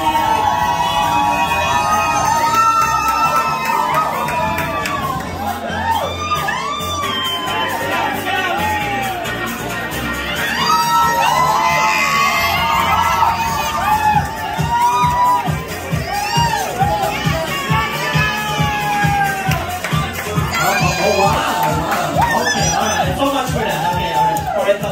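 A party crowd on the Radiance of the Seas cruise ship cheers, whoops and shouts for a contestant at a Halloween party, loud and continuous, with an announcer's voice heard through the noise.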